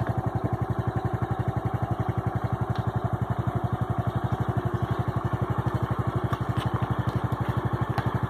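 A motorcycle engine runs steadily on a road beside dense virgin forest, a loud, close, even putter that holds at a constant pace throughout with no talking.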